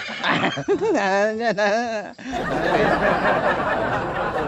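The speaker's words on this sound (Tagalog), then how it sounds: "Babaeng kabayo ito." A mare whinnies loudly and close by in a long, wavering neigh, followed by rustling and background noise.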